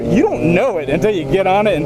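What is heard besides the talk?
No distinct noise like a dog, phone or traffic.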